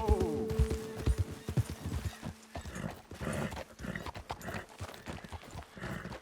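Horses in Red Dead Redemption 2 trotting, with rhythmic clip-clop hoofbeats on a hard path, close and moderately loud, joined by snorts and breathy whinnies, and brief talk over the steps.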